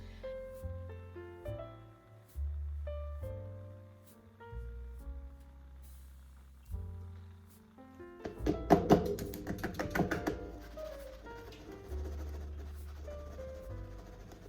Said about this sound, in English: I'm just knocking out some of the air bubbles.